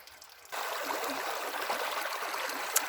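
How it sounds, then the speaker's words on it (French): Steady rushing water from a small waterfall in a stream starts abruptly after a brief quiet moment and continues evenly, close by. "Petite cascade cachée."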